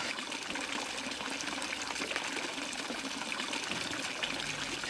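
Water trickles from a fountain in a video game, a steady unbroken splashing hiss with no voices over it.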